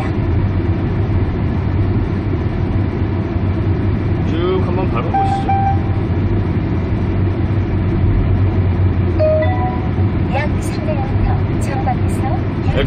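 A car with a newly installed engine power tuning kit accelerates on a road, its engine and road noise forming a steady low rumble that rises slightly, with brief navigation beeps and chimes near the end.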